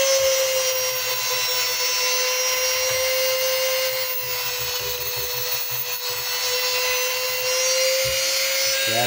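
A small 120-grit sanding drum wheel grinds a vintage Craftsman fender body hammer from around 1948 to the 1960s, a steady high motor whine with continuous scratchy abrasion and no pauses.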